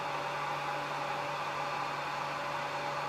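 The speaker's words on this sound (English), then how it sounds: "it means I get to turn the hairdryer off faster" A hair dryer blows hot air to soften doll parts for assembly, a steady whooshing hiss with a faint motor hum, constant and close, no speech.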